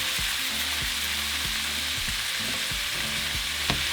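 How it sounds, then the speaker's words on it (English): Ground meat with cumin and seasoning fries in a pan with a loud, continuous close-up sizzle, broken by regular soft thumps and scrapes. "Now we're just going to cook our meat for about 8 minutes."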